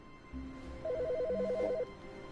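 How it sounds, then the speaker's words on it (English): A telephone rings in The Stanley Parable video game: a single electronic warbling ring burst lasting about a second, with soft background tones, fairly quiet and heard alone. "I need to get that phone call."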